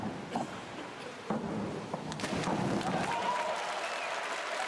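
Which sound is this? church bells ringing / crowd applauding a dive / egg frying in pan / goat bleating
crowd applauding a dive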